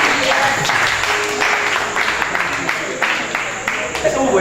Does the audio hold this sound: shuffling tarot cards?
no